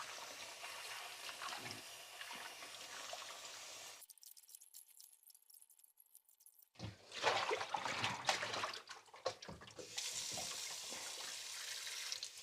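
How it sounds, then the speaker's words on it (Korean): Ingredients being rinsed by hand in cold water in a sink: running water and splashing hiss at a moderate level, stop for a few seconds, then return as sloshing and swishing before settling into a steady flow. "이렇게 찬물에 건져서 이제 깨끗이 씻어줍니다"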